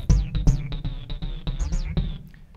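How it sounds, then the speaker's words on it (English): A rhythmic Roland AIRA synth bass line thumps in short repeated notes, with a bright zappy tone sliding on top, loud and alone. "Moving along through the bass sounds, there's various bass sounds."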